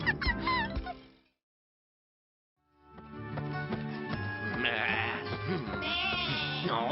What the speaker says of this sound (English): Oh, I've had quite enough of that bleating sheep.